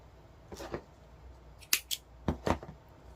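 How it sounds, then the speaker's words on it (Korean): Scissors snip crochet yarn while a cotton flower-shaped dish scrubber is being finished, giving about five short, crisp cuts in two quick clusters against a quiet room. "실을 잘라주세요"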